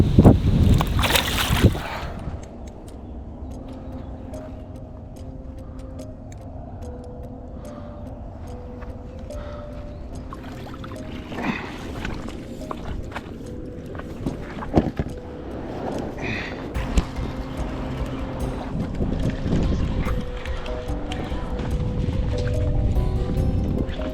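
Wind gusting across a public lake in France during a carp fishing session, a steady rushing buffet with occasional faint knocks and splashes, growing a little stronger toward the end.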